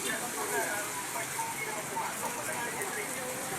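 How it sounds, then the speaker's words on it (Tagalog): Heavy typhoon rain pours down in a dense, unbroken hiss, with faint speech mixed into the steady downpour. "Si Edwin po ang bagyo, kaya malakas ang ulan"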